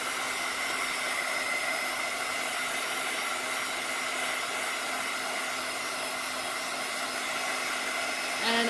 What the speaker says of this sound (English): It's just a heat gun, heat tool